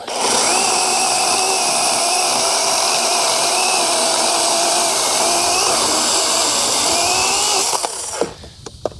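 A DeWalt 20V pruning chainsaw with an 8-inch bar runs loud and close while cutting a small tree, a steady high whine held for about eight seconds before it cuts off and winds down.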